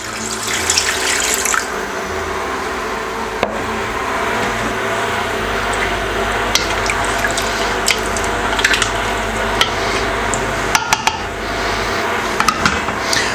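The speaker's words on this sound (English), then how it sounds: "And I'm going to add some of the water now as well." Water runs from a tap or is poured into a cooking pot of chicken stock and garlic, a steady close splashing stream lasting over ten seconds, with small clinks and drips toward the end and no speech.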